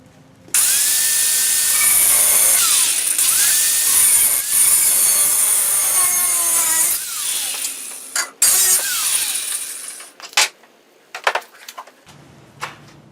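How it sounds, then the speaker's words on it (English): An angle grinder cutting through a steel angle bracket held in a vise, with a loud sustained whine for about six seconds, then shorter bursts and spin-downs as the cut finishes. "we'll go ahead and just use the angle grinder to cut this piece off"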